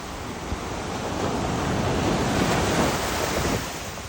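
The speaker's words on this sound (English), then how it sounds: "The waves, the swells are washing them up." Ocean surf washing up onto the rocky shore of Kaanapali Beach, a steady broadband roar that swells and recedes over a few seconds, with gusty wind buffeting the microphone and no voices.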